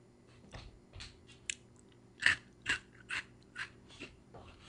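Homemade Captain Crunch style cereal gets crunched between the teeth in a handful of short, crisp bites spaced about half a second apart, close and fairly quiet, with no talking.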